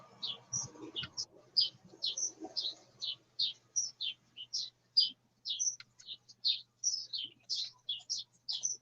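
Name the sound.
birds singing outdoors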